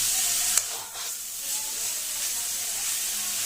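Steady hiss and sizzle of chicken keema frying in a pan as the water cooks off, close and even, with one brief clink near the start.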